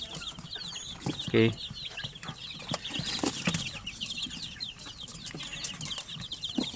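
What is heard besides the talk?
native chickens clucking on a backyard farm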